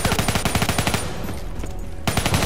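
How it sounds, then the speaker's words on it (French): Rapid automatic gunfire in the video game Call of Duty Black Ops 3, loud, close bursts that stop for about a second and then resume. "Aïe, j'ai reçu une balle."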